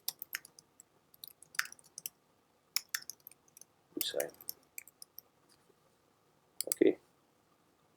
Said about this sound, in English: clicking on the button